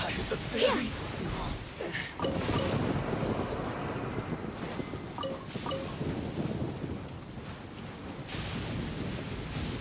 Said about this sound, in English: Raining just in time.